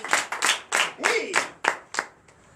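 Rhythmic clapping during a church deliverance and prophecy night service in Comé, Benin: about eight sharp, evenly spaced claps, close and fairly loud, with a voice briefly sounding between them.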